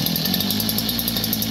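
A petrol brush cutter runs at a scrapyard, its engine droning steadily and loudly with a buzzy, high-pitched whine throughout.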